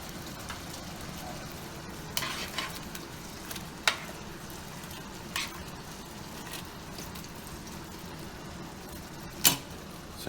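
Chinese noodles cook in a pan with a steady low sizzle, joined by a few faint scrapes and clicks of stirring, with no talk.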